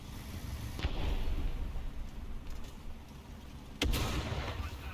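Artillery fire in the War Thunder video game: two heavy booming impacts, one near the one-second mark and a louder one near the end, over a constant rumbling battlefield background.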